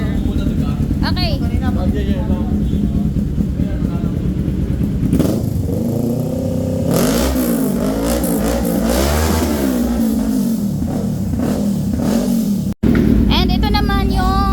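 A Kawasaki Ninja 650 motorcycle engine after a backfire fix, idling steadily and then rising in two long revs before settling back to a smooth idle, heard close up.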